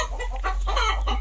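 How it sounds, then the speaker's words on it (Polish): Hen clucking during egg-laying time on a poultry farm keeping Marans and Green Shell breeds, a quick run of close, loud, rhythmic clucks with no talk. "przepraszam Was za kurę, ale niestety akurat pora jajek znoszenia"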